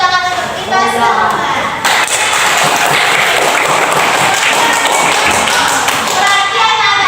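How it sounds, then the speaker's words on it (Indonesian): Children clapping together in a primary school classroom during a reading lesson, a dense, steady burst of applause that fills the room for several seconds, with young voices mixed in. "Berarti tepuk tangan untuk kita semua."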